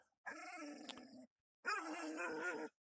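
Dogs bark and growl in two long, harsh bursts about a second each, separated by a brief pause, fairly close and loud with a tonal, rough quality.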